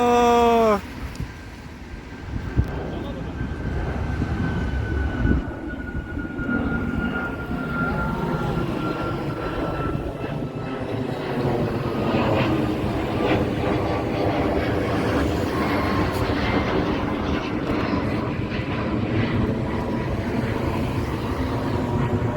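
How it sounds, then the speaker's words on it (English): Airplane taking off near Kok Tobe in Almaty, a steady broad engine roar that holds loud throughout with a rising whine over the rumble, no talk. "There's a takeoff."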